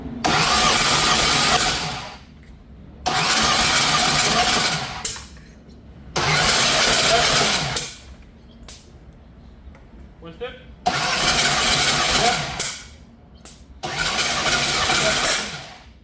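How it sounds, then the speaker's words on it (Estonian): A Ford drag racing car engine at Santa Pod Raceway revving hard in repeated loud bursts of about two seconds, separated by quieter idle gaps, with people talking between the revs. "Niimoodi karjus mootor lõpus."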